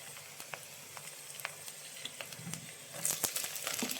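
Chopped onion sautéing in hot oil with garlic and ginger, a soft steady sizzle with small pops and crackles, close and fairly quiet, growing louder near the end as stirring picks up.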